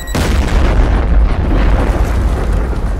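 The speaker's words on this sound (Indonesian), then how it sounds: "Ledakan bom tersebut terdengar oleh masyarakat sekitar." Bomb blast at Borobudur temple in 1985, heard as one loud, deep boom that opens abruptly and leaves a heavy low rumble rolling on for several seconds, with no voices.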